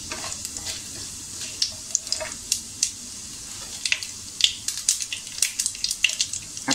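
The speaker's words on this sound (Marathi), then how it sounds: "आपली फोडणी छान तडतडली आहे।" Mustard and cumin seeds, a spoonful each, crackle in hot oil for a tadka, a scatter of sharp pops and spits of varying loudness over a soft frying hiss, with no talking.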